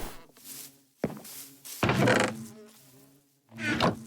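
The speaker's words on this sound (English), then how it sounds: "More bees." Bees buzzing in the Minecraft video game, with several close, droning hums that rise and fade in irregular waves, punctuated by a sharp hit sound, with no talking.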